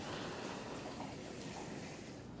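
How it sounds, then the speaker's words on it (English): Steady rain falling in Houston during Hurricane Harvey, a continuous dense hiss of drops with no breaks, fairly faint and heard alone without any voices. "Still raining."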